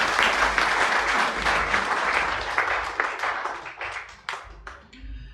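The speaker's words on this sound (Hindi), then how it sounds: "एक बार जोरदार ताली लोगों के लिए।" Loud crowd applause from a seminar audience in Faridabad, a dense wash of many clapping hands that gradually thins into scattered individual claps and fades near the end.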